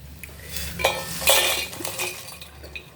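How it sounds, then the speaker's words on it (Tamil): Appalam fry with chili powder and onion being stirred, spoon scraping and clinking against a metal pan over a faint sizzle, in irregular close strokes without speech. "அந்த மிளகா பொடி, வெங்காயம் எல்லாம் மேலே வர்ற மாதிரி நல்லா கிளறி விட்டுக்கணும்."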